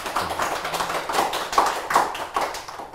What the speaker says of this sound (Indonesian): Mari kita beri tepuk tangan yang meriah kepada Anglia Gordina